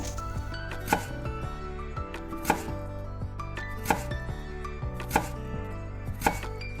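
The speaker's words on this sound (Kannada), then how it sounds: "ಹಿಂಗೆ ಸಣ್ಣಾಗಿ ಉದ್ದುದಾಗಿ ಕಟ್ ಮಾಡ್ಕೊಳ್ಳೋಣಂತ." Mandarin peel is cut into thin, long strips with a knife, each firm chop landing on the board at a slow, regular pace of roughly one a second, close and clear with soft scraping between strokes.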